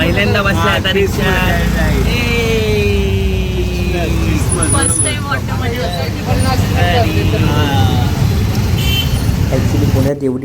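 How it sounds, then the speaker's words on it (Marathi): An auto rickshaw ride through busy city traffic in Pune, with a constant close engine drone and road rumble, passing vehicles and horns, and people talking over it throughout. "पहिल्यांदा बसला आता रिक्षा."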